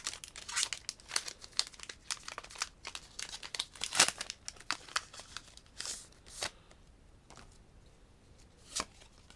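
Someone tears open a Pokémon card booster pack close to the mic, giving a series of sharp foil crinkles and ripping bursts that thin out into a few separate crackles near the end.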